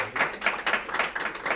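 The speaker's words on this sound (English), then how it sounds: "can we give a round of applause to Cody?" Light scattered clapping from a small group during a live stream, a few hands patting in an uneven rhythm at moderate level with no voices over it.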